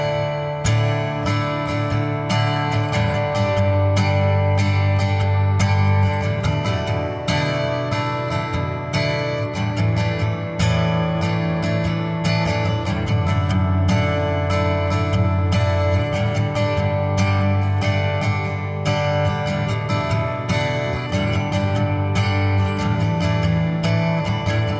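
An acoustic guitar strums the King of Kings worship chorus through a chord progression, running through a Line 6 Helix, full and steady strumming alone for the whole stretch, close and fairly loud.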